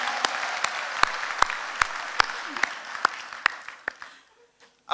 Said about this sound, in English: That clap is not loud enough for me.